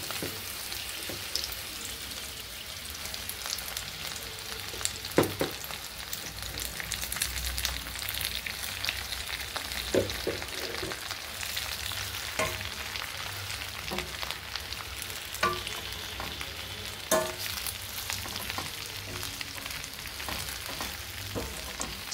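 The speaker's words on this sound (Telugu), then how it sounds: "ఇప్పుడు అదే కడాయిలో ఇంకొంచెం నూనె వేసుకొని గోంగూరను కూడా కొంచెం వేసుకుంటూ ఫ్రై చేసుకోవాలి." Gongura leaves fry in oil in a kadai, giving a continuous crackling sizzle with scattered sharp pops and light stirring clinks throughout, close and fairly even in loudness.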